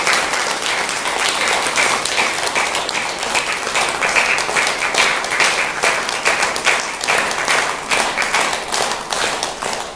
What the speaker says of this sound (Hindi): तो इनके लिए एक बार जोरदार तालियों से आप उनका अभिनंदन करें।